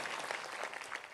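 Audience applause at a religious discourse and question-answer gathering in Karera, Shivpuri: a dense, steady patter of many hands clapping together, loud and sustained for the whole moment with no voices over it.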